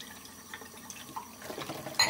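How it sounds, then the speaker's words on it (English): Water running and splashing as dishes are rinsed in a dishpan, with rinse water collecting in the bottom of the pan; a quiet, steady trickle that grows busier toward the end and has small clinks and drips. "as I rinse, the water accumulates in the bottom of the pan"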